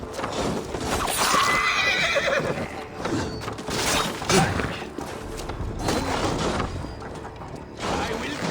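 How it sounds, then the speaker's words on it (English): Horses whinny loudly amid clattering hooves and mechanical game noise in Assassin's Creed Valhalla's Siege of Paris, several neighs overlapping in a busy, dense mix. "Horses give them advantage, but it will not be enough."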